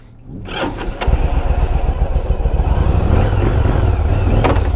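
A 2007 Yamaha V Star 1100 motorcycle, left sitting through most of winter, cranks and catches within a second, then settles into a loud, close, steady V-twin idle with a rhythmic lumpy pulse.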